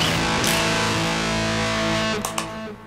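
An electric guitar played through a Klon Klone overdrive pedal rings out with a sustained, gritty, distorted tone, loud and continuous before cutting off near the end.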